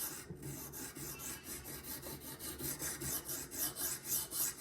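ZT 0562ti knife blade drawn repeatedly across a sharpening stone, steady rasping strokes in an even rhythm, close and alone.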